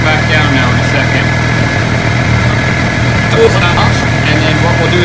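Suzuki GSX-R motorcycle idling while its radiator cooling fans run: a loud, steady engine hum and whirring fan rush with no break, and a voice talks faintly underneath.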